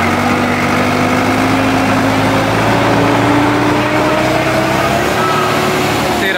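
Sonalika diesel tractor engine, shuttle gear in neutral, revving loudly and steadily close by, its pitch climbing gradually as the throttle rises, with no talk over it.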